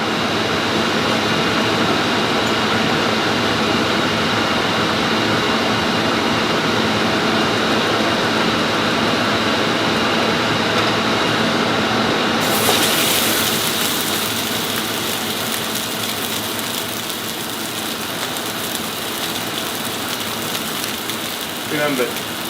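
Ribeye steak searing in avocado oil in a hot pan, a dense continuous sizzle and crackle like heavy rain, steady and close throughout, growing brighter and harsher partway through.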